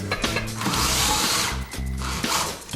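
A drill fitted with a countersink bit whirs and grinds loudly up close, with a ratcheting, clattering tone in two long bursts separated by a brief dip, and no talking.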